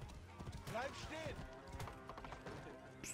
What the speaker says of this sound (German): Das Pferd da, das ist aber flott.